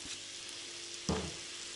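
Onion sizzles quietly in hot olive and sunflower oil, with a brief louder crackle and stir partway through.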